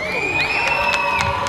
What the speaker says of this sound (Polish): Wielkie brawa, nasza brązowa medalistka.